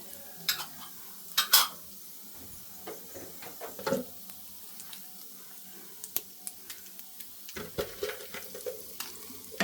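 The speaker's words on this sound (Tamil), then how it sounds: "கடுகு போடுறோம் கொஞ்சம் சீரகம் போடுறோம்" Mustard seeds and cumin crackling in hot oil for a sirukeerai poriyal, with sharp irregular pops and spatters over a low sizzle, punctuated by a few louder clinks of a spoon against the pan.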